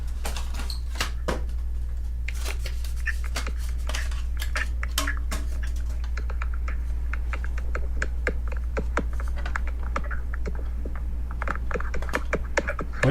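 Quick, uneven clicks of typing on a computer keyboard run throughout, close and crisp over a steady low hum.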